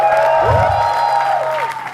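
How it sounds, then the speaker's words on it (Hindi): Brief crowd applause for Uorfi Javed at a comedy roast show, loud and short, heard under a bright musical sting with sweeping tones. "जोरदार तालियां उर्फी जावेद के लिए"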